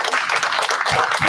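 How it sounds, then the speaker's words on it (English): An audience at a National Black Nurses Association live event claps, a dense, continuous wash of applause filling the room for a brief moment, close and loud. "Give yourselves a round of applause."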